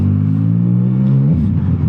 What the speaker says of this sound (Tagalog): Grabe, ingay din ang motor natin.